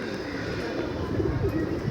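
Pigeons coo softly and repeatedly inside a loft on an afternoon, the throaty calls overlapping in a steady murmur with faint background hum.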